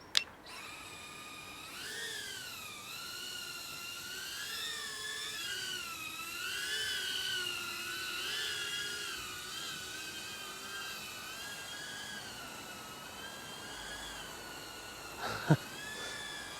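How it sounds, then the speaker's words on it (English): Small EMAX EZ Pilot Pro FPV drone motors spin up after arming in a back garden, a steady high-pitched whine with wavering pitch that holds close and fairly loud for the full stretch before a brief thump near the end. "Let's arm the drone."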